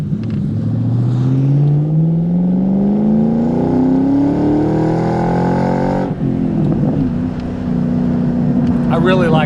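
A 2003 Ford Mach 1 with a 4.6 V8 and five-speed manual accelerates hard from inside the cabin, its engine note rising steadily through a gear before a shift and a lower, steady drone resumes.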